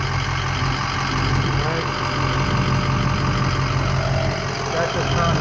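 A car engine idling steadily after a transmission fluid refill, a constant low hum throughout with a brief spoken word over it.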